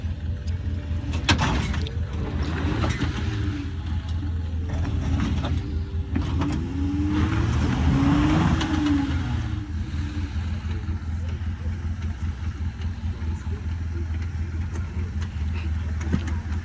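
An SUV engine rumbles low and steady as the vehicle backs up on a rocky off-road trail at Hidden Falls Adventure Park, its rear hitch hung up on the ground, with intermittent scraping and clatter over the continuous drone.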